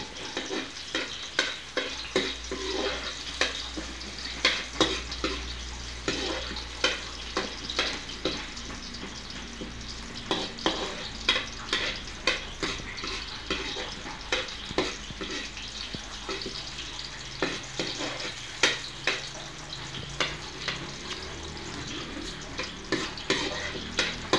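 Garlic and onions sauté in a pan for chop suey, giving a steady close sizzle broken by frequent scraping stirs and light clinks throughout, with no talk over it.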